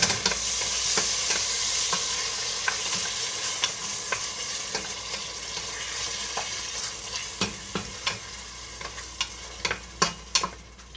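Tomato being stirred into vegetables sautéing in a pan for a Filipino ginisang gulay, with a steady close sizzle and scraping spoon taps that grow sharper and more frequent toward the end.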